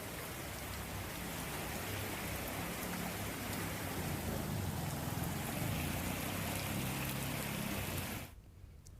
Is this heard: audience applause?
no